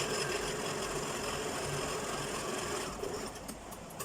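A sewing machine stitches along the edges of a convocation cap, giving a continuous buzzing hum of fast needle strokes that runs steadily and then eases slightly near the end, with no voices.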